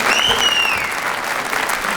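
A studio audience claps loudly and steadily throughout, a dense wash of hands with a short whistle near the start.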